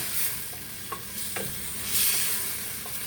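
Onions sizzling in a pot for a red-wine bourguignon with carrots, mushrooms and lardons, a steady close hiss of frying with a few soft scrapes and taps from stirring, and no voice.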